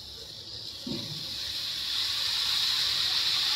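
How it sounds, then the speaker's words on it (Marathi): Prepared water pours into a pan of roasted coconut mixture for a Marathi coconut prasad, a steady rushing hiss that swells and grows louder over a few seconds after a soft knock, with no talking. "आणि जे आपण पाणी बनवलेलं ना ते टाकते."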